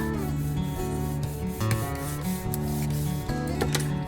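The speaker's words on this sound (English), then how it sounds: "We want to make sure that this side of our burnisher is clean and free of ink, or it creates too much friction. Really push and rub." A burnisher rubs hard against the back of paper laid on an inked printmaking plate for a mandala radial symmetry print, producing a steady, close scraping friction sound in continuous back-and-forth strokes with no voices.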